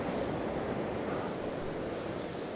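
Rough surf breaking steadily on a beach along the Holderness coast at Kilnsea, a continuous loud wash of waves with wind noise buffeting the microphone, no voices.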